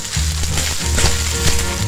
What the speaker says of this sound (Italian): Adesso si aggiunge il burro perché ha iniziato a rosolare bene, quindi si aggiunge l'aglio